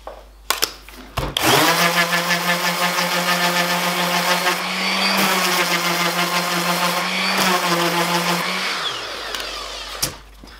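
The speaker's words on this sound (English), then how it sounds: "use the random orbital sander with, I think it's a 120 grit pad on it" Random orbital sander with a 120 grit pad grinding on G10 composite, a loud close steady whine that starts abruptly, holds with slight dips as the pressure changes, then winds down.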